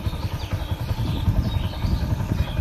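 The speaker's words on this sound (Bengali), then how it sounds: "গাড়িটি স্টার্টে আছে, জানি না আপনারা বুঝতে পারছেন কিনা" A Bajaj CT 100 kick-start motorcycle idles up close with a steady, low, slightly clattering engine rumble that continues throughout, with no talking.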